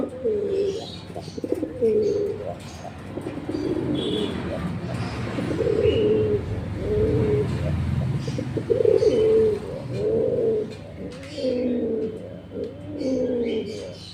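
Pigeons for sale at a pet shop in Kolaghat, West Bengal coo repeatedly in soft, throaty, rolling phrases, close by over a steady murmur of shop background noise.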